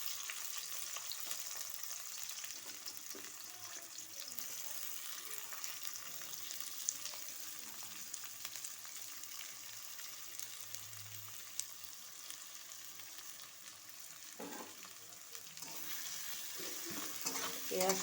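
Chopped onion fries for ghugni in a pan, a soft, steady sizzle with occasional light scrapes and clinks, quiet and without talk.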